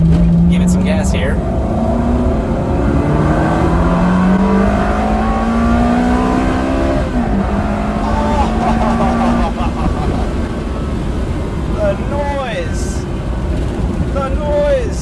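Ferrari 360 engine in automatic mode revving hard under acceleration, its pitch climbing steadily and loud throughout, with a voice talking over it in places.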